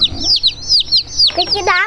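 Baby chicks chirp in a busy run of high, sliding peeps, several overlapping, close and loud, while a faint voice sits underneath.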